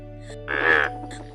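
A frog gives a single rasping croak lasting about half a second, clear and close, set against a low steady hum and nothing else.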